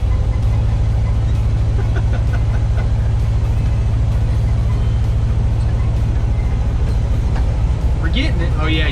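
The engine of an abandoned 1974 fire truck drones loud and steady as the truck strains to pull away, with a constant low rumble throughout and someone talking over it.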